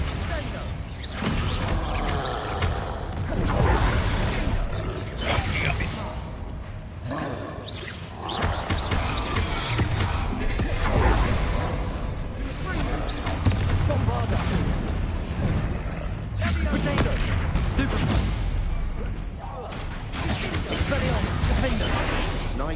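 Explosive blasts from the Bombarda spell in Hogwarts Legacy on PS5, with booming crashes and clattering combat effects repeating through a troll fight under game voices and music.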